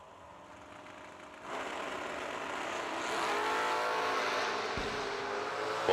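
A 1969 Camaro and a Trans Am launch off the line at a drag race. Engine roar jumps sharply and holds steady at a distance, growing slightly louder as the cars pull away.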